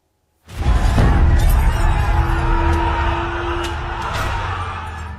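Sudden loud commotion on a street in Dhaka, Bangladesh, as rioters smash things: a crashing burst followed by sustained roaring noise with sharp bangs and a shrill tone, staying loud to the end.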